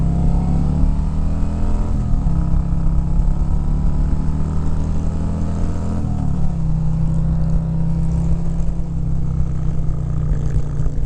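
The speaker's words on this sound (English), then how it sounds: "let's hop on the bike" A Harley-Davidson Road Glide motorcycle rumbles loudly under way, its deep engine note holding steady and shifting pitch a couple of times as the rider changes speed, with wind noise over it.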